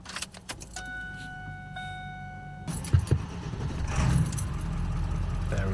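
Keys jingle and a chime sounds before a truck engine turns over and catches, settling into a rough, steady idle close by inside the cab.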